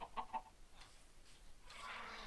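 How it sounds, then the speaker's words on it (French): A few quick clucks from a chicken in a Minecraft-style video game at the start, then a soft hiss of background noise; faint and fairly distant. "Ah, la poule s'échappe là."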